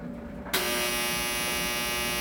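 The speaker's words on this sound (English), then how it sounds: "That's the dryer." A household clothes dryer starts up abruptly and then runs with a steady, loud electric hum and buzz, droning on alone after a brief quiet moment.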